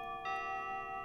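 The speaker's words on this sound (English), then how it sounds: "Oh, it's a bell." A bell sounds with a bright sustained ringing tone that swells in after a short moment and holds steadily, fairly quiet and alone with no talk.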